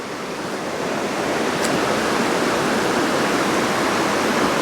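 Steady broadband rush of a waterfall in the woods at Loch Chon, Scotland, a continuous roar of falling water heard close by with no voices.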